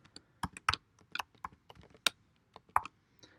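Close computer keyboard typing as a database schema name is entered, a burst of irregular crisp key clicks with small pauses between strokes and no talk.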